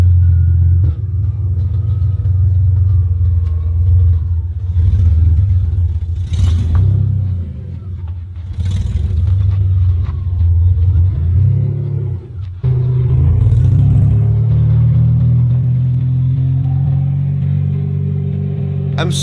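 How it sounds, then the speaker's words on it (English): Low-budget BMW drift car with a six-cylinder engine, loud and close, rumbling and revving in repeated swells with short throttle lifts between pulls as it drives off. "A 6-cylinder is really something different compared to a 4-cylinder. It sounds awesome."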